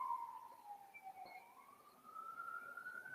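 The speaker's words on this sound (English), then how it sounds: "there's an ambulance going by." An ambulance siren wails past outdoors, faint and distant, its pitch gliding down and then rising again as it goes by.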